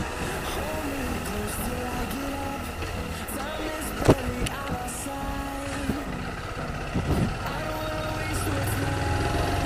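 A Honda Fan 160 motorcycle runs with a steady low engine drone and vibration, with a few sharp knocks and rattles standing out over the hum.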